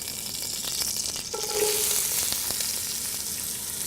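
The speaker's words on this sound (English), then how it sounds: "Our onion, we're going to cook this down for about 10 minutes and sweat the onions until they're soft." Onion sizzles in half a cup of olive oil in a pot as the base for a three bean minestrone, a steady close hiss with light stirring scrapes and no talk.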